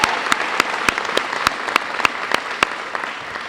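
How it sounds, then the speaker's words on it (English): A school varsity jacket night audience applauds four athletes with steady, fairly loud clapping, a few sharp individual claps standing out from the crowd's continuous patter. "So let's give them a big round of applause again."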